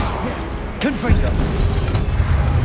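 A Confringo blast spell cast in Hogwarts Legacy, in a large arena duel: a deep boom bursts out about a second in and leaves a rumbling tail, with a voice talking over it.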